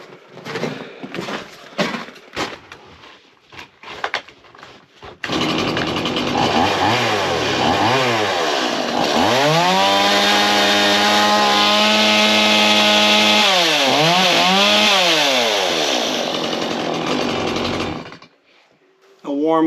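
A chainsaw roars in a snowy Newfoundland off-grid cabin setting at about -10, revving and bogging as it bites into wood with rising and falling pitch, loud and close, after brief rustling and talk beforehand.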